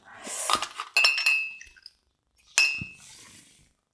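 Small porcelain egg cups clink together a few times, bright ringing taps with short shimmering tails separated by brief silences.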